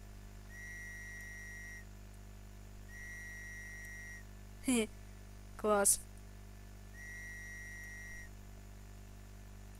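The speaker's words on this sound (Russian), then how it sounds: "А, это свисток." A shrill whistle blown twice in quick succession in the survival game Stranded Deep, loud and close, set against a steady electronic hum and a few quieter repeating tones; a brief word is spoken.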